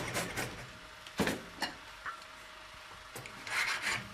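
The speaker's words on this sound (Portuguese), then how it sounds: "E limar também." Hand file rasping across a freshly struck metal medal to clean off leftover edges, several short scraping strokes at close range with pauses between them, no voices.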